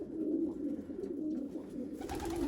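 A grizzle racing pigeon coos in low, rolling, repeated calls, close and steady against a faint background hiss.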